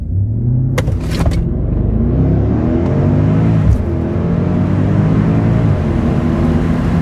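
A Mercedes R63 AMG launching hard on a 0-60 mph run, with a loud engine roar climbing steadily through the gears, a brief shift dip midway, heard from inside the car and no voices.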